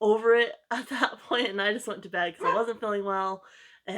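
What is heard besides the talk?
No everyday noise stands out behind the speech.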